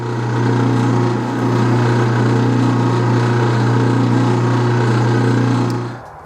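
A lathe drilling brass with a center drill makes a steady machine hum with a strong low drone that runs continuously, then winds down near the end.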